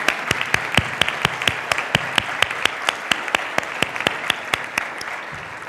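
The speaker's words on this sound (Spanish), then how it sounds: "un aplauso para Edgardo Benninger" Audience applause at a Chilean conference on international trade, a steady run of loud claps lasting several seconds, close and alone with no talk over it.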